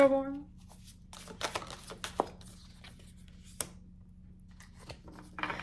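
Tarot cards being shuffled and drawn: sparse, soft rustles and crisp card flicks against a quiet background, with a brief voice at the very start.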